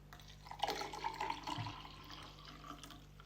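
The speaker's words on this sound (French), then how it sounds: "Et après, vous remplissez ça d'eau." Water runs into a small container for mixing a drink, a soft, close trickle and splash that is fairly quiet and settles after a few seconds.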